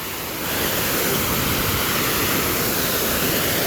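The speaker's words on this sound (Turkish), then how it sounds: "Ha buradan su geliyor." Steady broadband rush of water falling and flowing down, loud and continuous after a brief quieter start, with no voices over it.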